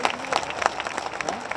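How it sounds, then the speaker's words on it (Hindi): A crowd at a rural political rally in Bawana claps as a tribute, a dense, steady patter of many hands sustained for the full moment without pause. "जोरदार तालियां श्रद्धांजलि के रूप में।"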